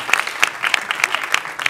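Sparse clapping at a short film festival in Pointe-Noire, a handful of distinct claps landing in a roughly steady rhythm, close and fairly loud, with no wider crowd swell behind them.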